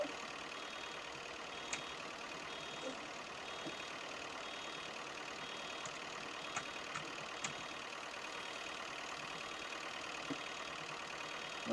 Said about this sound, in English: Ford do seem to have done a good job on this latest incarnation of the tractor,